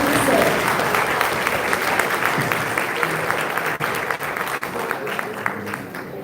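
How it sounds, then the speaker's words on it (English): Sustained audience applause fills a college hall as a visiting doctor is welcomed to speak, dense and steady clapping that thins slightly toward the end. "I request everyone to give a big round of applause to extend a warm"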